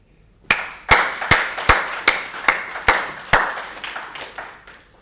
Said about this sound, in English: I want you to give Jane a wonderful round of applause